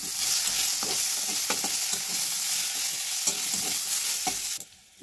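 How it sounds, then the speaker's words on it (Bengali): Bitter gourd fries in hot oil with a steady, dense sizzle, and scattered clicks and scrapes of stirring sound close by. The sizzle cuts out abruptly at the end. "উচ্ছেগুলো আগে ভেজে নিব।"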